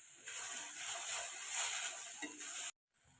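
Chambakka (rose apple) pickle is sautéed with salt in a pan, giving a close, steady hiss of frying with soft stirring that breaks off abruptly near the end.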